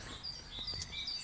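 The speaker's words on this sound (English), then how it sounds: "what is the bird song?" Short high chirps and whistled bird song, a few quick notes over a low background hum, fairly faint, with no one talking.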